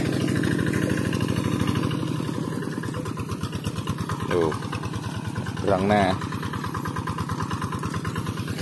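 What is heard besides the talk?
tractor engine running on a village road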